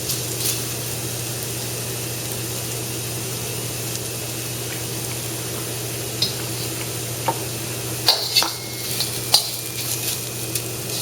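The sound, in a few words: tofu frying in a pan until crispy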